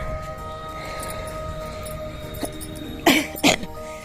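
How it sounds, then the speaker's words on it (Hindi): Two harsh coughs close together near the end, following a faint quiet background with a soft short sound earlier. "एकदम मोला खांसी आथे"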